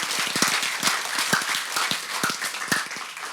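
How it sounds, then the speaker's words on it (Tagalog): A church congregation claps for the Lord after the pastor's call, a dense, steady wash of applause with sharp individual claps popping through, sustained throughout and fairly close, with no talking. "Palakpakan po muli natin ang Panginoon. Yung pinakamalakas na palakpak nyo sa Panginoon."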